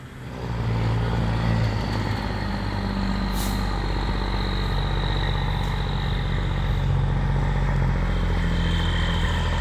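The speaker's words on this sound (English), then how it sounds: "they brought another tractor to help get this guy unstuck" A tractor's engine runs steadily on a rural road while helping free a stuck vehicle, a loud, continuous low diesel rumble with a brief hiss partway through. No one speaks.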